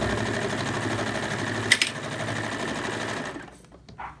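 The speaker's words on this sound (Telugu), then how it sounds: "ఇలా నిదానంగా నెమ్మదిగా ఆగుతూ కుట్టుకోండి, కంగారు ఏం లేదు." A sewing machine stitches fabric for an apron made from an old kurti, a close, steady rattling whir that runs evenly before slowing and stopping, followed by faint handling clicks.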